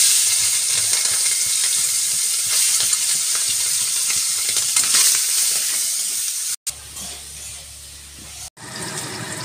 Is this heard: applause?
no